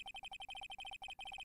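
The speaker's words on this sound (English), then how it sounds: "I know that song your phone plays when it rings" Phone ringtone in Phoenix Wright: Ace Attorney, a quick, steady series of bright electronic beeps in a repeating pattern, faint and alone.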